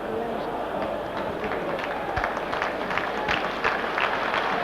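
Sympathetic applause from a football stadium crowd as Ruud Gullit is substituted off during AC Milan against Real Madrid in the European Champions Cup, a broad, distant wash of clapping and crowd noise with a commentator talking over it.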